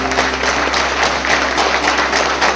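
Audience clapping at a workplace annual safety fortnight function honouring women employees who performed CPR; a dense, steady patter of many hands fills the room for a few seconds, with a low electrical hum beneath.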